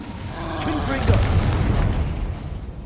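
A Confringo blasting-curse explosion goes off in a magic-themed video game as one loud booming blast with a rumbling tail that fades over a couple of seconds, following a spoken spell.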